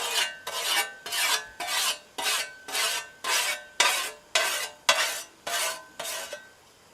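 Repeated rasping strokes of a file or stone drawn over the edge of a peened scythe blade to take off the burr, about a dozen even, close strokes in steady rhythm with no talking.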